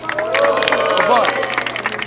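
An audience at a Brazilian freestyle rap battle cheers and claps for a rapper, making a dense wash of shouts and scattered clapping. A host's voice cuts through the close, steady crowd noise.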